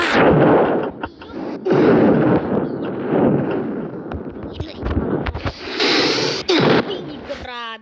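Rapid bursts of video game gunfire in Roblox crackle loudly in repeated volleys, close and harsh, with short gaps between and a few sharp shots near the end.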